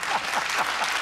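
Studio audience applauding Cliff Richard, a brief burst of dense, steady clapping filling the room, loud and continuous with no speech over it.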